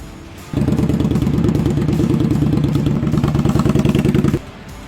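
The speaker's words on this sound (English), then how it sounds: "now that the bike is all warmed up, we're just going to take it for a nice, easy test ride" A warmed-up motorcycle idles briefly, then its engine comes in loud and close with a steady, pulsing rumble as the bike sets off on an easy test ride, before dropping back to a quieter level near the end.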